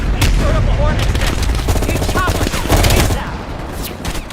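Rapid bursts of gunfire from the video game Call of Duty: Black Ops Cold War crack and rattle in quick succession, loud and close, with a voice briefly breaking through the shooting.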